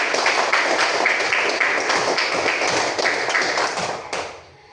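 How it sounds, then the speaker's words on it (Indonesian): A classroom of students claps in brisk, loud applause for several seconds, which then fades out quickly at the end. "Tepuk tangan buat kita semua."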